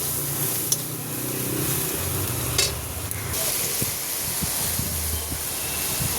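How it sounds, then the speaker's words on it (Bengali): A spicy eggplant mixture with green chillies is stirred and sautéed in a pan, giving a continuous close sizzle layered with scraping spoon strokes and occasional clicks against the pan, with no talking. "এবার এটাকে ভালো করে একটু নাড়িয়ে কষিয়ে নেবো।"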